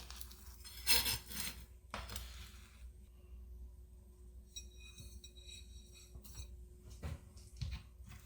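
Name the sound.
cutting into a pesto grilled cheese sandwich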